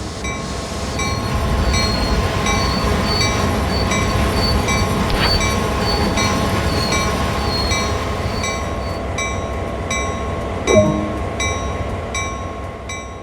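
A GP38-2 diesel locomotive in Train Sim World rumbles along and slows to a stop, with a steady low drone, a squealing brake tone and a sharp clunk near the end, no talking.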